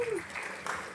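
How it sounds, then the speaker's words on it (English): Audience applause in a small hall after a talk on art made by animals, a brief burst of clapping with a voice briefly over it. "Please give a round of applause."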